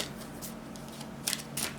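Soft riffling of tarot cards being shuffled, quiet and close, with a couple of brisk bursts of flicking near the end.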